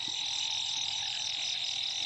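Narrow-mouthed frogs calling at night after heavy rain, a steady, continuous chorus at moderate distance with insect-like buzzing throughout and no voices.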